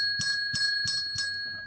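A ring-for-service bell is struck four times at an even, quick rhythm, each bright metallic ding ringing with a sustained tone that lingers between strikes, close and clear with no talking.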